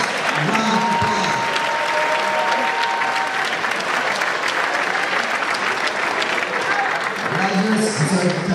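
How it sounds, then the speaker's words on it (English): A graduation audience breaks into sustained, loud applause mixed with cheering and crowd noise, steady throughout, with a few voices faintly audible in the background. "Give yourself a round of applause."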